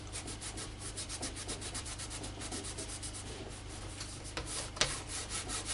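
A cloth buffs the surface of a handmade leather shoulder bag with quick back-and-forth rubbing strokes, a soft, rhythmic, close scuffing that stays fairly faint.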